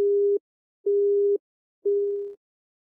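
Telephone busy tone in the video game Shin Hayarigami: three evenly spaced steady beeps of about half a second each, clear and alone, the last one trailing off.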